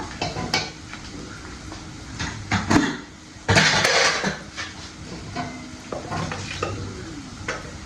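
Ivy gourd being stir-fried in a pan for a Kerala mezhukkupuratti, with a spoon scraping and clanking against the metal in irregular bursts over a soft sizzle, loud and close, with one sharp louder scrape midway.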